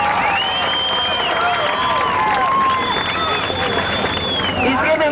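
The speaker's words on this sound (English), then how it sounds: "Give him a big cheer." A large crowd at Thunderbird Raceway roars, cheers and applauds continuously, with dense babble and shouts, loud and sustained throughout with no pauses.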